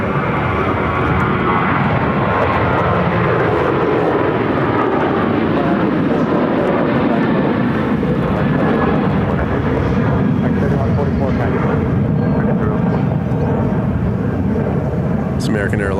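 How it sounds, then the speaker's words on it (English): An American Airlines Boeing 737-800 jet at Phoenix airport rumbles with a loud, sustained engine roar that rises and shifts as it moves, while a voice talks over the noise. "American Airlines Flight 3144 headed to Denver on a 737-800."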